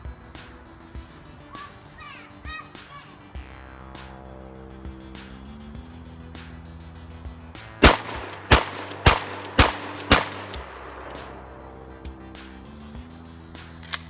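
A shotgun fired five rounds in rapid succession: five loud, sharp, close blasts about half a second apart, following a stretch of low ambient hum with no speech.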